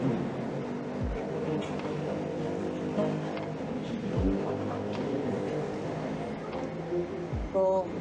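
Road traffic beside a Bangkok BTS Skytrain station: steady engine rumble with several vehicles passing close by, one after another, loud and continuous.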